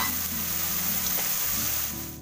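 Onion frying in hot oil with garlic and ginger for pav bhaji, a continuous loud sizzle that holds steady and fades slightly at the end, with no voices.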